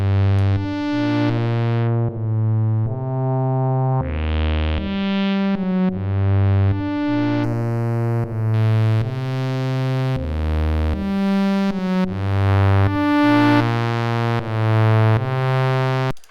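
Synth notes in Phase Plant whose tone buzzes and growls as a sine wave modulates the filter cutoff at audio rate, playing a repeating bass-and-melody pattern, loud and steady without talk.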